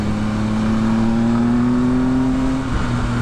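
A 2020 Triumph Speed Triple RS motorcycle engine pulls hard in first gear with a loud, steady drone. The pitch climbs gradually under strong wind rush, then drops sharply near the end.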